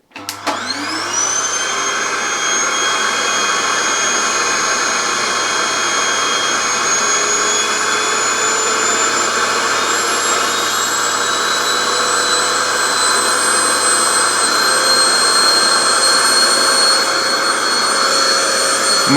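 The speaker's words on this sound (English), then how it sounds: "I can connect my 800 watts vacuum cleaner" An 800-watt vacuum cleaner powered from a portable power station starts with a sharp whine and then runs as a loud, steady motor roar with a high whistling tone, unbroken from start to finish.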